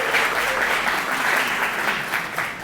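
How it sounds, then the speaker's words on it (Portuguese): Audience applause fills a lecture hall at a medical talk on emergency patient care, a steady dense wash of clapping that holds for a few seconds without talk. "Salve de palmas para o Silas"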